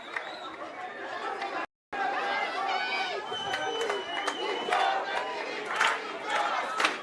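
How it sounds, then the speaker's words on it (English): An Australian crowd at a men's cerebral palsy football championship final cheers and chatters in a steady, swelling din, with a commentator talking over it. "this Australian crowd have lifted."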